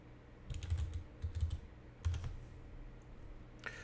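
Keystrokes on a computer keyboard come in a few quick bursts with pauses between, close and fairly quiet against a low room hum, with no voices.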